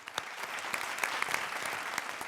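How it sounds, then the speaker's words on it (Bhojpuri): Loud, dense applause from a studio audience at a Bhojpuri television show, continuous clapping with sharp individual claps popping out near and clear throughout. "जोरदार तालियां"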